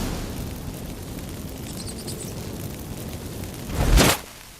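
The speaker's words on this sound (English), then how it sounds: "Get ready for some magic fireworks." A magical burst from lit incense in The Witcher 3 video game, a single loud whooshing flare near the end, rising sharply and fading over about half a second after a quiet, rumbling ambient stretch.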